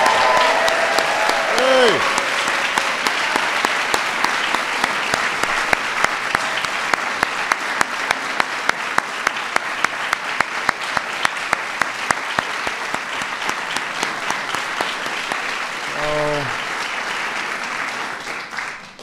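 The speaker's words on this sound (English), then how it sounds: "Let's give one more big round of applause to our outstanding recipient." An audience at the National Medals of the Arts and Humanities awards gives a recipient a big, steady round of applause, full and sustained for most of the stretch before tapering off, with a brief voice near the end.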